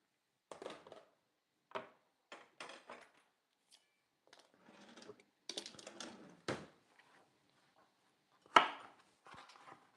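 A knife chops freshly peeled carrots for juice, giving close, sharp, irregular chopping knocks spaced through the clip with quiet gaps between, no voices.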